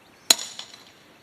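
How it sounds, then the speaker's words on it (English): A single sharp metallic tap of a crowbar driven in behind the hinge of an old wooden chicken coop door, close and crisp with a brief ringing decay, no talking. "you want to make sure you get your crowbar up here on the top at an angle and tap in behind it"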